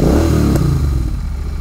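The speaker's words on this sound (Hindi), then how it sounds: "मतलब पहले स्टार्ट होएगी, RPM फ्लक्चुएट करता है इसका, ये प्रॉब्लम आ रही है।" A Royal Enfield GT650 motorcycle engine idles loudly and close, its rumble dipping and wavering as the RPM fluctuates, with a brief metallic clatter partway through.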